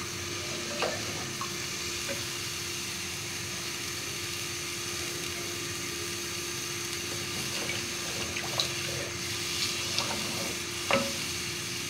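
Chicken nihari simmers in a pot with a steady bubbling, sizzling hiss, while occasional soft scrapes and taps of a spoon stirring the thin gravy surface through it.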